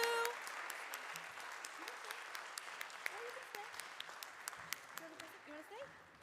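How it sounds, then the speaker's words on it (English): Congregation applauding at a solstice celebration service, steady dense clapping throughout with individual sharper claps standing out, fairly even in level and gradually thinning toward the end. "let's do one more round of applause"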